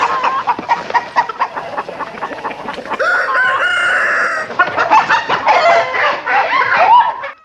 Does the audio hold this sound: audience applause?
no